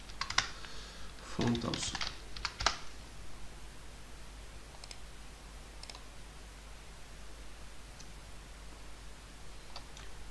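Typing on a computer keyboard while entering an npm command, with a quick flurry of loud key clicks early on, then scattered lighter taps; a voice speaks briefly.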